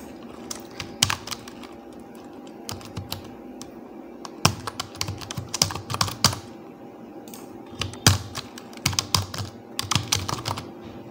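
Quick, uneven bursts of keystrokes on a computer keyboard while a job application form is filled in, close and clear with brief pauses between runs of typing.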